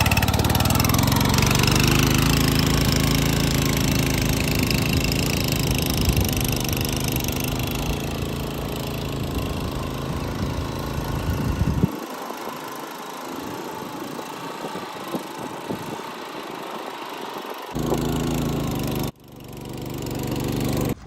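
A power tiller engine runs steadily and loud close by, then cuts back to a rougher, quieter idle with uneven knocking pulses before a brief drop and restart near the end.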